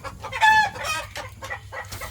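Chickens in a coop give a quick run of close, sharp clucks and squawks in a broken rhythm over a low background hum.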